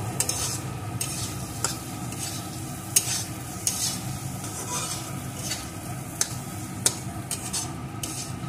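A utensil stirs egg bhurji seasoned with garam masala in a hot pan: a steady low sizzle runs throughout, broken by scattered sharp scrapes and clinks of the spoon against the pan.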